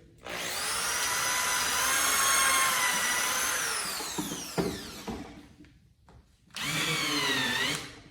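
A handheld electric screwdriver drives into wood panels while assembling furniture niches, a loud sustained whine lasting about four seconds that winds down, followed after a short pause by a second, briefer run.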